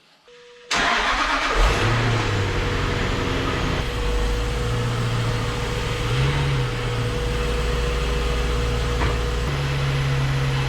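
A wrecked Jaguar S-Type R engine cranks briefly, catches and starts, then settles into a loud, steady running idle with small revs, close by.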